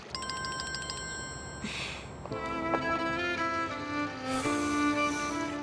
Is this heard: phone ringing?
yes